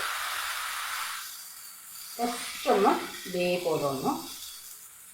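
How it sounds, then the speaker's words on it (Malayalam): Rice flour batter made with egg hits a hot pan with a soft, steady sizzling hiss at first, which then fades beneath a person talking. "ഒരു തവി മാവ് ഒഴിക്കാം"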